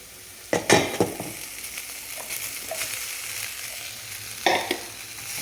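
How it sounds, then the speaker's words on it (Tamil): Cooked rice being folded into capsicum masala in a pan, with a spoon scraping and stirring in a few bursts over a soft, steady sizzle, close and fairly loud. "கொஞ்சம் கொஞ்சமாக போட்டு கலந்துக்கிறேன்"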